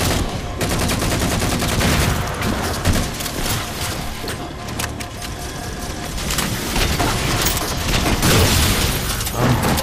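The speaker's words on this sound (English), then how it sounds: "Big explosion." Chaotic gunfire and a big explosion in Halo 4 on Legendary co-op, dense loud crackling bursts and booms running continuously without a break.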